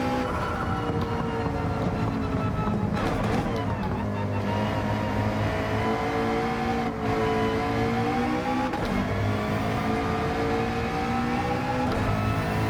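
A McLaren GT3 race car in a racing video game accelerates hard, its engine droning loudly and continuously with rising and falling pitch as it powers along the track.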